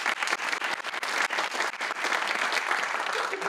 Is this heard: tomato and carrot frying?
no